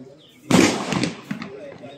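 A single sharp rifle shot rings out during NCC cadet live-fire training, loud and close, with a short decaying echo as voices talk nearby.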